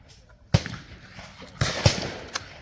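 At a clay shooting ground, shotgun shots crack out as sharp, loud reports, several in quick succession across a few seconds, with a coach's voice nearby.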